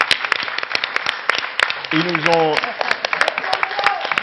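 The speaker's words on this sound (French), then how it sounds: "D'abord, on va les applaudir," Scattered audience applause at a public round-table discussion, sparse individual claps at varying distances, with someone speaking briefly over it midway.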